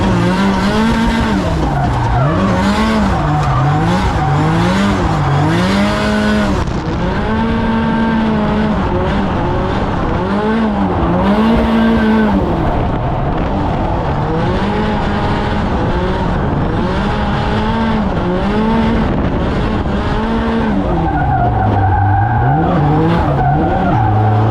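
SR20-engined Mazda MX5 on a test lap, its engine droning loud and continuous throughout, pitch rising and falling with gear changes and throttle, with tire scrub and wind noise close up.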